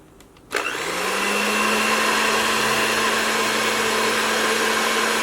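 An electric beater starts with a click and then whirs steadily and loudly while mixing pudding syrup, its motor whine holding at one even pitch with no talk over it.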